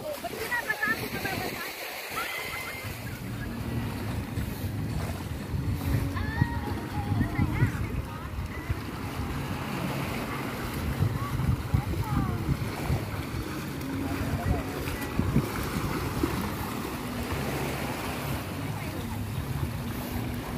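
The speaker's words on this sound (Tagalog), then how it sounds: "Ayan, sasakay sa bangka." A family boat moves across open water near Subic, with a steady engine drone, splashing and wind rush, while voices talk throughout.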